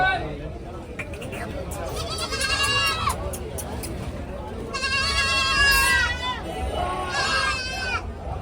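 Desi goats bleat repeatedly at a crowded goat market in Balahedi, Rajasthan, with several loud, wavering calls overlapping near the mic while people talk in the background.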